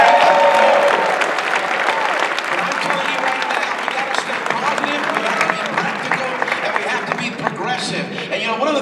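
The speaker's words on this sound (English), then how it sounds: "give yourselves a hand clap." An audience gives a sustained round of applause and hand clapping, a loud continuous wash of many hands with crowd noise and scattered voices mixed in throughout.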